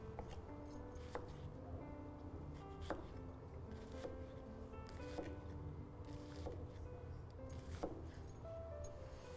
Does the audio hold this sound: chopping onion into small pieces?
yes